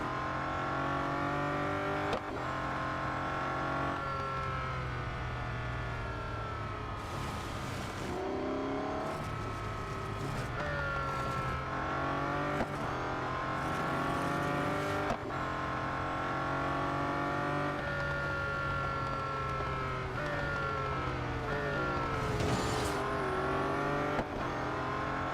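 Race cars in Real Racing 3 roar continuously with engines revving up and down through gear changes, loud and close, with occasional bursts of sharper noise as cars pass.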